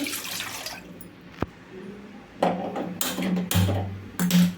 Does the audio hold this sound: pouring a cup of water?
yes